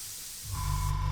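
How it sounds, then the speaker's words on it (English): An airbrush sprays thin Tamiya XF85 paint at low pressure through a model mask with tiny apertures, starting midway as a brief steady hiss with an airy tone, close and alone. "But the way you spray it is a little bit different because these are such tiny apertures in this mask."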